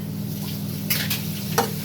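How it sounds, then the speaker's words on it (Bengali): Garlic and spices fry in oil while being stirred, giving a close, steady sizzle with two or three quick scraping strokes of a spoon against the pan. No voices are heard. "এবার আপনার এইটা ভালো করে কষবে, ভালো করে কষবে, একটু থেকে থেকে নাড়িয়ে দেবেন।"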